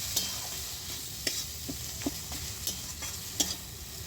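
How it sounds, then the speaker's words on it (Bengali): A spice paste of cumin, mustard, coriander and chilli with turmeric and salt sautés in a pan for a prawn curry, giving a steady low sizzle punctuated by occasional stirring clinks. "ভালো করে মশলাটা কষিয়ে নিতে হবে।"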